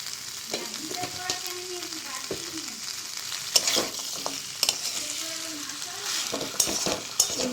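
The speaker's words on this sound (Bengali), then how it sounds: "হালকা করে কষিয়ে নেব দু তিন মিনিট যাতে মশলাগুলো ভিতরে ভালো করে ঢোকে" Spiced potatoes and onions being sautéed in oil for a fish-bone chorchori, with steady sizzling broken by repeated scraping stirs of a spatula in the pan, close and moderately loud, with no talk.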